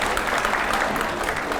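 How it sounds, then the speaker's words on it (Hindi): Studio audience clapping during a televised political debate, a brief dense burst of applause at steady loudness. "ऑडियंस अपनी तालियों से क्या कह रही है"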